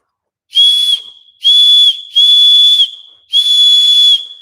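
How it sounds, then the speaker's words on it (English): A small whistle carved from a twig is blown four times, each a steady shrill high tone lasting under a second, close and loud with short pauses between. "I hope you can hear that because it is whistling."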